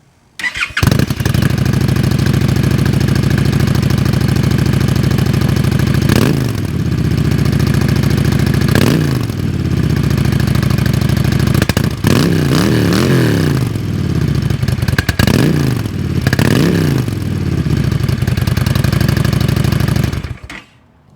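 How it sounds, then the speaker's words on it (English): A 2024 Honda Shadow Phantom cruiser motorcycle engine idles with a deep, steady rumble, revving up several times with rising and falling pitch before cutting off. "this is how the 2024 Honda Shadow Phantom sounds"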